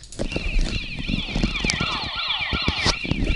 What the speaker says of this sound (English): it has a nice alarm sound to it right now